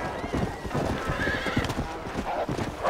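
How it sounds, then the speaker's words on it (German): A horse in the video game Red Dead Redemption: Undead Nightmare gallops with quick hoof clip-clops and gives a short whinny, heard beneath a player's excited talking. "Warum hat das Pferd mich abgeworfen?"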